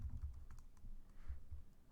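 Soft, rapid keystrokes on a computer keyboard while coding in Java, a quiet clatter of a few clustered taps with short pauses between them.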